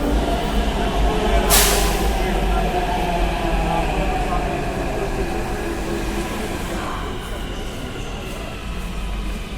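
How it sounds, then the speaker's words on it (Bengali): A Hyderabad metro train rumbles steadily up close, with a sharp hiss or screech burst early on and the rolling noise fading gradually toward the end. "মেট্রো ট্রেন, এই মেট্রোতে।"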